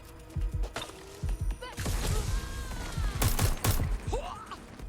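Scattered gunshots in Watch Dogs: Legion, several sharp bangs and thuds spaced irregularly over game music and effects, with a brief voice in between.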